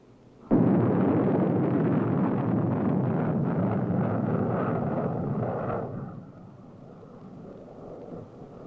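A Nike Hercules missile intercepts a Corporal missile in flight in 1962 test footage, heard as a sudden loud blast followed by a sustained roaring rumble that fades after several seconds.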